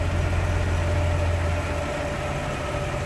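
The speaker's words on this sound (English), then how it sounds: "let me let it idle here" A 1996 Buick Century's 3.1L engine, which has secondary ignition and injector faults, idles steadily with a low, even hum and a faint whine, close and continuous with no talk.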